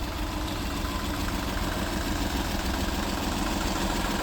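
A Volkswagen car engine idles steadily up close, a constant low rumble with slight vibration and no talk.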